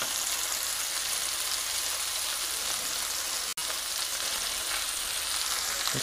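Turkey meatballs sizzle steadily in a pan, a dense even crackle of frying heard up close with no voices.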